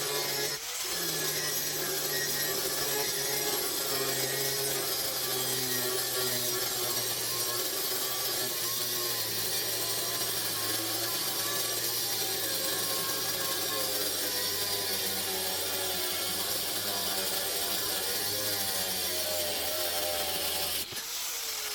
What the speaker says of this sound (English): I'm going to go ahead and cut angles on them.